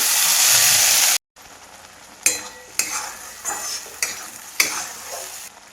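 Ground spice paste with mustard seeds, cumin, turmeric and chili powder frying in hot oil: a loud sizzle at first, a brief silence, then repeated stirring scrapes with bursts of sizzling.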